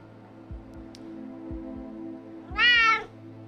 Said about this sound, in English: Very loud meow. He's a noisy boy.